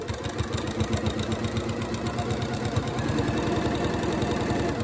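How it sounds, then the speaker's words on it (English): A sewing machine stitches lines across fabric with a fast, continuous mechanical chatter and steady rhythmic pulsing, close and unbroken, with no voices. "let me sew some lines next to these, and you'll see how I do not get the push forward of the fabric"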